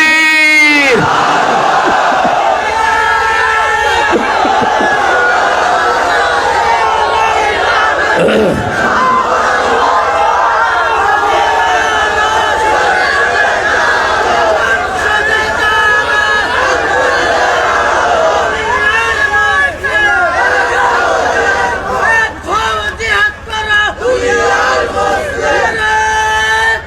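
A large crowd at an Islamic religious gathering roars a sustained takbir chant in unison, loud and continuous, with bursts of massed voices swelling and fading.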